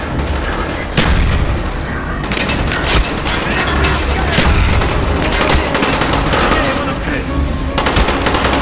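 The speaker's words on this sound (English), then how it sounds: "Grenade in!" Sustained automatic gunfire and heavy booms, including a grenade explosion, fill a Call of Duty Black Ops battle, loud and dense throughout with a sharp burst partway in.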